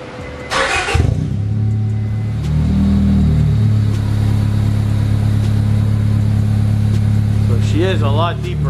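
A car with a newly installed Speedfactory turn-down muffler cranks and fires, settling into a deep, loud idle before a sharp rev near the end, with people talking nearby.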